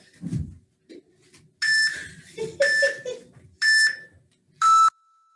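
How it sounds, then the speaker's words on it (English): Workout interval timer alarm at a bodyweight bootcamp class, several loud, shrill electronic beeps in a short series with brief quiet gaps between them. "Oh, the timer's already set."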